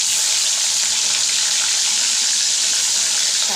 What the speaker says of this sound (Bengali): মাছগুলো আমি আগে ভেজে নিচ্ছি